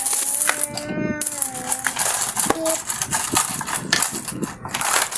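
Coins handled at home, clinking and rattling close up in irregular bursts, with brief tonal hums and background noise and no speech over them.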